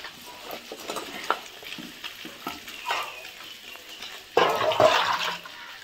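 Fish fries in a pan with a soft bubbling sizzle and intermittent clatters from handling, then a louder burst of hissing toward the end, all close by.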